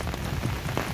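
Heavy monsoon rain pours down in Mangaluru during flooding, a thick, continuous roar of water striking the ground, loud and close without pause.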